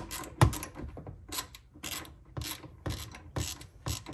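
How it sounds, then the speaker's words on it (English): Ratchet wrench clicking in rapid bursts while tightening rear seat bolts inside a Shelby GT350R, repeated rhythmic ratcheting strokes close to the microphone with no talk. "So get our wrench out here,"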